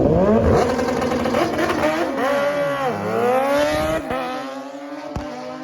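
Drag racing motorcycles scream down the strip at Maui Raceway Park in a bracket race, engines rising through gears with a loud, sustained wail, pitch dropping at a shift then climbing again, with a brief crackle near the end.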